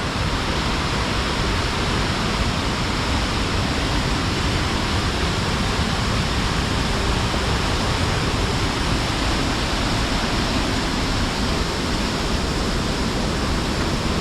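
Bhagsu Nag waterfall pours in a steady, unbroken roar of rushing water, loud and close, filling the whole stretch with constant dense noise and no voices.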